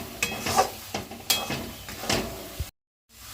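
Spices stirred and fried in a pan for a Bengali kochu bata prawn dish, heard as a few scraping stir strokes over a light sizzle, close and moderately loud, ending in a brief silence.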